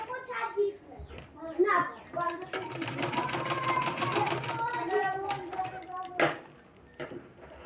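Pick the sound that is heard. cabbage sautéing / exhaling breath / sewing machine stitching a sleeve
sewing machine stitching a sleeve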